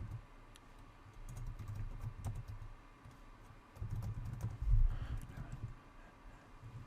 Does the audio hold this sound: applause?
no